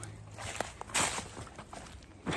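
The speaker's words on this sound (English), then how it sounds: "And then I hear my dogs coming up." Faint, irregular footsteps and light scuffling patter nearby, like animals trotting up over the ground, with a few sharper thumps.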